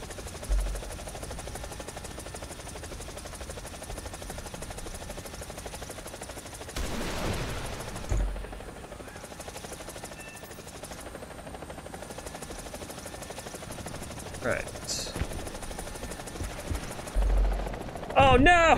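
A Mi-35/Mi-24 attack helicopter drones in a military video game, with bursts of gunfire and sharp shots breaking through at intervals over a constant rotor rumble.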